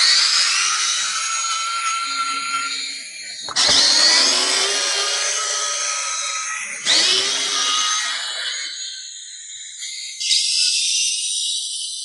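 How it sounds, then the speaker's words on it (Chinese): Four screws are backed out of a rechargeable headlamp housing with an electric screwdriver: four close, loud, high whirring bursts in a row, each fading as the screw comes free, with no talking. "这边有4个螺丝， 我们直接拆开。"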